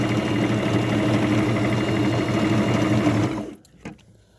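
Sewing machine running a seam on a fabric baby burial cocoon, a steady rapid mechanical whir of stitching for about three and a half seconds before stopping, followed by a faint clunk.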